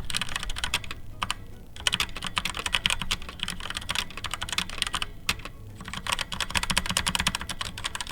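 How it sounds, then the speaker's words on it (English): Continuous fast typing on a cheap $25 mechanical keyboard in stock, unmodified condition, a close clattery stream of keystrokes broken by a couple of brief pauses, with no voices. "this is what the keyboard sounded like before we did anything"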